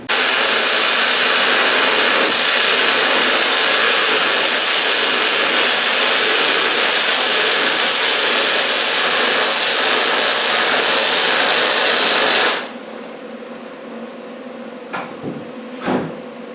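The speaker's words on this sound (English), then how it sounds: "So I will just weld that." A homemade steel tailgate extension for a GMC Sierra pickup is welded with a loud, steady, close crackling hiss lasting about twelve seconds. It then cuts off abruptly, leaving faint clatter and handling noise.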